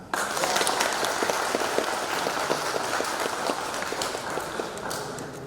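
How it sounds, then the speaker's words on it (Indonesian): A crowd applauds steadily at a wedding ceremony in Bandung, Indonesia, dense clapping continuing for several seconds at a fairly loud, even level. "Kita sambut mereka dengan tepuk tangan."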